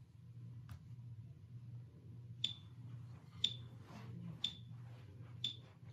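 Four evenly spaced sharp ticks, one per second, over a faint low hum in an otherwise quiet room.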